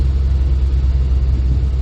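A classic Mini's small engine hums and rumbles steadily from inside the car while driving, loud and low.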